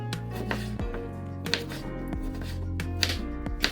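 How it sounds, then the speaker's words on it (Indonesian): A knife dices a red tomato on a cutting board in a home kitchen, with a regular series of crisp, close chops over background music. "Lalu ini akan kita potong-potong dadu seperti ini."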